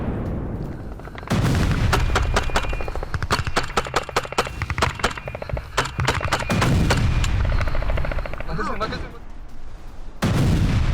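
Bombardment and gunfire in war footage from the Russia-Ukraine war: dense bursts of rapid, loud cracking shots and booms that run for several seconds, with a short lull before the firing resumes, heavy and close.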